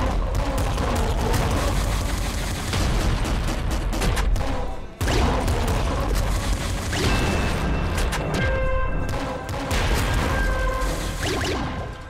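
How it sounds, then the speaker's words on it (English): Rapid automatic flame shotgun fire in the video game Nuclear Throne, a dense continuous barrage of blasts with crackling bursts and electronic game tones, briefly cutting out near the middle before resuming loud and steady. "I had no idea the auto flame shotgun was this good."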